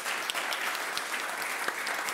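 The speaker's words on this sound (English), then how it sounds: "Please, a round of applause to the speaker of our panel." An audience at a digital transformation forum applauds a panel of speakers with even, sustained clapping from many hands and no speech over it.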